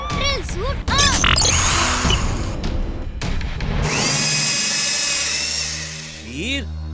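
A cartoon robot's drill suit switches on with whooshing and whirring effects, rising chirps and crashes, then settles into a loud, sustained high-pitched mechanical drilling whine before tapering off, with brief voice sounds mixed in.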